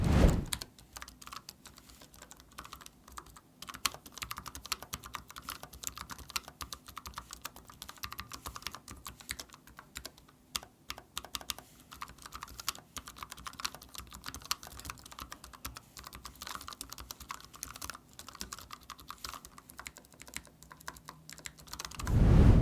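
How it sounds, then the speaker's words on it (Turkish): Rapid, steady typing on a brown-switch mechanical keyboard, close and crisp, with clicky keystrokes running continuously and no voices. "Bu kahverengi switchlerde özellikle nasıl bir ses performansı veriyor, nasıl bir ses çıkartıyor"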